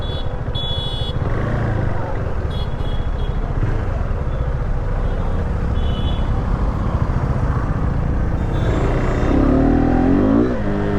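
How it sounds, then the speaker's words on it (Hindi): A KTM RC 390 motorcycle on fresh CEAT Sportrad tyres, its rear wheel spinning and the engine revving in a steady loud drone, with a brief higher whine rising near the end. "अभी फिलहाल तो काफ़ी व्हील स्पिन कर रहा है टायर।"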